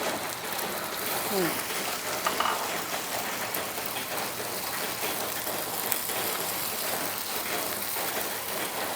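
Oyster omelette with duck egg sizzling in a hot pan, a dense, steady crackle and hiss of frying that holds evenly throughout, close and fairly quiet, with no clear talk over it.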